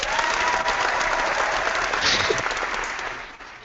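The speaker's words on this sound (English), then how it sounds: "that was a wild crowd applauding what you just said" A wild crowd bursts into loud, sustained applause mixed with some cheering, a dense wash of clapping that holds steady for several seconds before easing slightly at the end.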